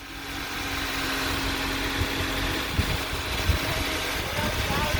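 A car engine with about 312,500 miles idles with a steady low rumble and faint vibration, while a voice talks briefly nearby.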